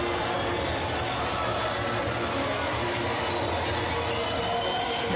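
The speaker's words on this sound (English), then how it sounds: "The crowd's loving it." Constant loud roar of a crowd with vuvuzelas at a FIBA U18 African women's basketball semi-final, Egypt against Madagascar. The dense cheering never lets up, with brief high bursts on top.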